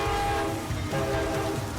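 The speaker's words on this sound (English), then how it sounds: "And a train is coming." A train approaching on railroad tracks sounds a long, loud horn blast over the steady rumble and rattle of rail cars, continuous and close.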